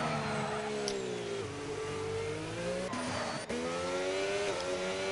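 A Formula 1 car in a racing video game screams at high revs, its engine pitch dipping and climbing through gear changes and corners, with brief tire scrabble and no talk.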